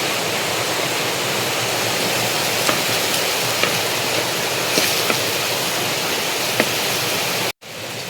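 Heavy rain pours down in a steady, dense hiss that fills the scene, with a few sharper drips and taps scattered through before it cuts out abruptly near the end.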